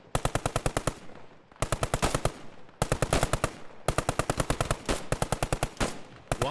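Machine gun fire in a World War II-style realism video game event, loud close bursts of rapid evenly spaced shots in five or six strings separated by short pauses.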